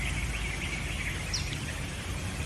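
Birds sing beside a river in Bali, with faint, scattered chirps and a short call over a steady bed of flowing water and ambient hiss.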